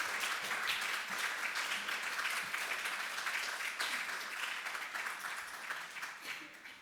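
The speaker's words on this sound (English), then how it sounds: "Big round of applause for Prarana Kumar." Audience applause for a poet at a poetry slam, a steady dense wash of many hands clapping that holds fairly even before thinning slightly toward the end.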